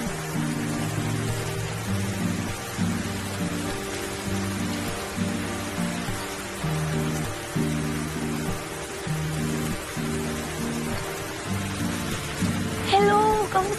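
Rain falling outdoors, heard as a continuous hiss of drops on surfaces, steady and fairly loud, mixed with other tonal sounds and possible voices.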